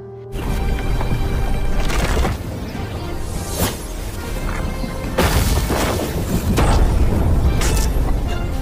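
Loud booming blasts burst out repeatedly over a dense, rumbling roar, with several sharp crashing impacts rising above the continuous din.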